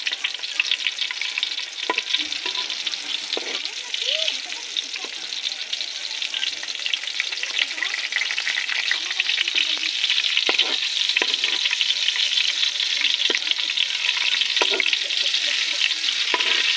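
Eggplant omelette (tortang talong) frying in a pan of oil, a steady loud crackling sizzle with scattered pops and spatters, close up and continuous from start to finish with no speech.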